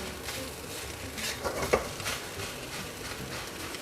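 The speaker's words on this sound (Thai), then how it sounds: "บีข้าวให้มันเป็นเม็ดๆก่อนนะครับ" A spatula stirs mala Chinese sausage fried rice in a pan over low heat, breaking the rice into separate grains. Soft, quiet scraping strokes cluster in the middle of the clip, with no talking.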